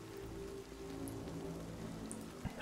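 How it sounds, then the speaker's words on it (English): Soft, steady rain ambience in the video game Returnal, a faint continuous patter of drops with a low hum underneath and a small tap near the end. "it's just raining or whatever"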